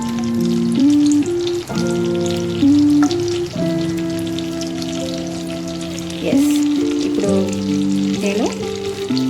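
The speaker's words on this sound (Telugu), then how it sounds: "బటర్ కూడా కొంచెం మెల్ట్ అయిపోవాలి" Butter and oil heat together in a pan, a soft continuous sizzle with light crackling under a loud, prominent melodic music track.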